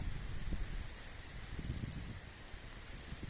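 Steady roar of gusting wind with rustling and a rain-like hiss, loud and continuous throughout with no voices.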